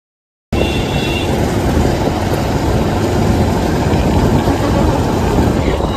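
A motorbike rolls slowly along a road, its engine a steady low idle-like rumble with constant broadband noise and no pauses.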